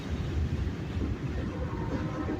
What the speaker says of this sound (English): So this train probably rolled out of Hamlet